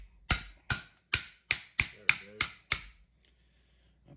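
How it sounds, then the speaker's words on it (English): A small meat cleaver struck with a small hammer to crack the breastbone of a smoked Thanksgiving turkey: eight sharp, evenly spaced metallic knocks close up, followed by quiet. "Take your little meat cleaver and your little hammer, and you just want to break the"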